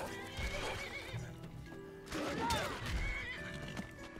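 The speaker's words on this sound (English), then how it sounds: "it's my horse!" A horse in Skyrim gives loud, drawn-out whinnies and neighs, with clip-clopping hooves and other game sounds around it, close and busy for the whole stretch.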